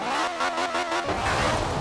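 A BMW i8 hybrid supercar engine revving in the racing game Forza Horizon 4, a loud pulsing rise and fall of engine tone that settles into a steadier roar, with no talking over it.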